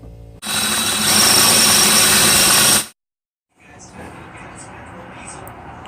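A power drill bores out an alternator bolt hole with a 3/8 bit, a loud steady whine running for about two and a half seconds, then cutting off to silence before quieter shop noise returns.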